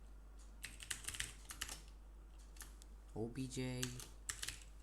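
Clicky bursts of typing on a computer keyboard while writing C++ code, close and crisp, with a brief spoken word in between.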